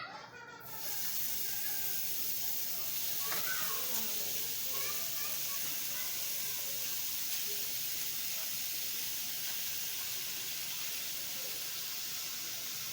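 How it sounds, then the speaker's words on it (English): Ground beef hits a preheated pan and bursts into a loud, steady hiss that holds constant, while a voice talks faintly underneath. "Now I'm going to put my ground beef in."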